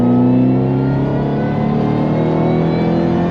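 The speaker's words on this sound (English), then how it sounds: "Getting some of that supercharger whine, always nice to have." A supercharged Shelby GT500KR (S197 generation) revs loudly and close, its engine roar steady with a faint supercharger whine running through it, and no talk.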